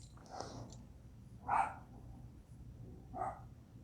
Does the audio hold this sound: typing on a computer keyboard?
no